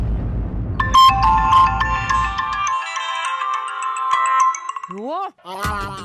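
A mobile phone ringtone plays as an incoming call, a loud melodic electronic tune with steady tones that cuts in over low background noise, followed by a few sweeping chirps and a short closing burst.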